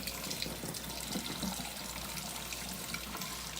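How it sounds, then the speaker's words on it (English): Tap water runs steadily to rinse an ionic foot detox array, a continuous close splashing rush with no pauses. "So the first thing I do is give it a good rinse."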